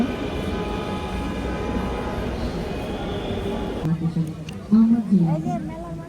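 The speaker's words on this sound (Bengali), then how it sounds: "এই যে চলে এসেছে আমার ট্রেন, মেট্রো।" A metro train's loud steady roar fills the station in Dhaka, then drops away as it slows to arrive; voices speak over it near the end.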